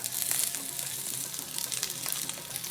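Vegetables such as capsicum, onion and ginger sizzling and frying in hot coconut oil for tofu masala, a steady close crackling hiss with faint stirring, no talk.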